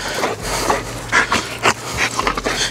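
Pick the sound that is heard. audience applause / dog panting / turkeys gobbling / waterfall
dog panting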